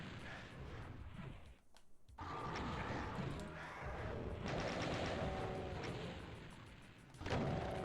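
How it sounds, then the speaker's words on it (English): Rocket launcher and chaingun fire in the 1994 PC shooter Doom II, a dense, continuous barrage of booming shots and blasts that barely lets up, with a brief dip partway through. "We're going to deploy our rockets."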